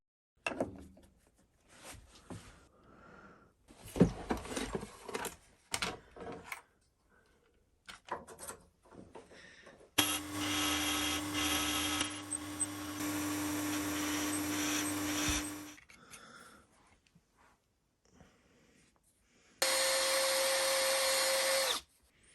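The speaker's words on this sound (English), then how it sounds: "We'll need to mill it a wee slot in here, a wee half circle." A power tool mills a small half-circle slot into a wooden hand plane, running in two sustained whining bursts, one long and one short, between quieter stretches of handling and tapping on wood.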